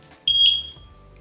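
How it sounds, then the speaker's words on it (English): A single sharp electronic beep from the sync button of a Eufy Floodlight Cam 2 Pro, high and steady, lasting about a third of a second, close by with faint low rumble underneath. "There it is, the beep,"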